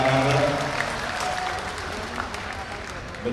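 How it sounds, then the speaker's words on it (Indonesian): Steady crowd applause for the PSI party chairman at an Indonesian political campaign event fills the whole stretch, dense and sustained, with a voice faintly over it at the start. "tepuk tangan untuk Ketua Umum PSI Mas Kaesang Pangarep,"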